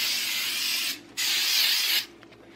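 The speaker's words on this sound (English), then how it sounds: "coconut oil spray." Two hissing bursts of coconut oil cooking spray from a can, close up, the first about a second long, then a short pause and a second longer burst, with no talking.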